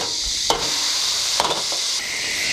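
Tofu sizzles steadily in a hot pan while a spatula scrapes and flips it two or three times in sharp strokes, heard up close without voices.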